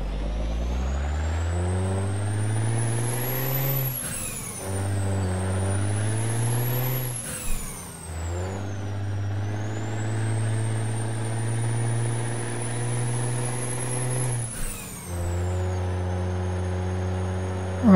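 An International 9800 truck drives in American Truck Simulator, its engine droning steadily with rising pitch through each gear and brief dips at the shifts, loud and continuous with no talk.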